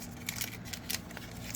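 Scissors snip at a Disney Lorcana booster pack in a few short, close cutting and crinkling strokes. The sounds are faint and come alone with no voices.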